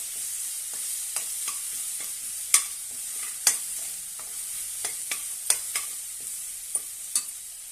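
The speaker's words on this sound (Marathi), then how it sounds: "हे वाटण तयार केलेले ते हिरवी मिरची, आलं आणि लसूण ते घालूया। छानपैकी फिरवून घेऊया।" A paste of green chili, ginger and garlic frying in hot oil in a pan for methi kadhi, with a bright hissing sizzle and repeated sharp scraping clicks of a spoon stirring it, close and without speech.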